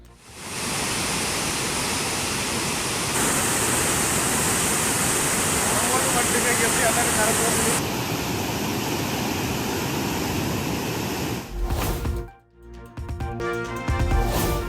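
The Hogenakkal waterfall roars loud and steady with high river flow, its dense rushing noise continuous throughout, and toward the end it briefly drops away and returns.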